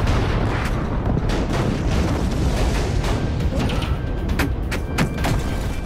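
Flak shells bursting around B-17 bombers at 25,000 feet over Schweinfurt, Germany, as a dense, continuous roar of booming detonations with repeated sharp cracks layered over a heavy rumbling background.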